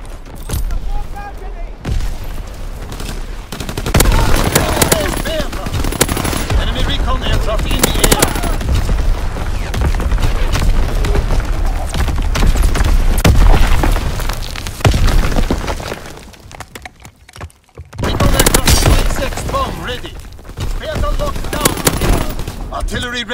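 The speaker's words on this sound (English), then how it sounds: "Incoming enemy artillery! Get to cover!" Loud artillery shell explosions and gunfire in a multiplayer war video game on a Gibraltar map, dense booms and bursts rolling continuously with a short lull before another barrage, game voice announcements mixed in.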